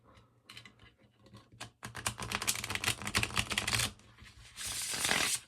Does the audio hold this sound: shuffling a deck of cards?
yes